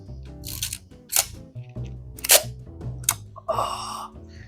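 A vintage Exakta film camera from around the 1940s or 1950s gives off a run of close, crisp mechanical clicks and shutter snaps, spaced irregularly across a few seconds with faint handling noise between them.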